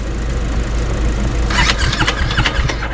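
A motorcycle engine, one that was damaged, cranks and starts, a steady low rumble turning into a rougher, busier mechanical roar halfway through, close and loud with no talking.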